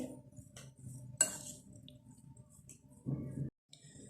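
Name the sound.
mixing potatoes and chicken with salt, pepper and cumin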